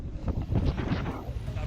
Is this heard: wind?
yes